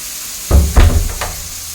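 Bitter gourd frying in a pan on the stove: a low steady sizzle, broken by three short louder bursts like stirring or tossing in the oil. Close by, with no talking.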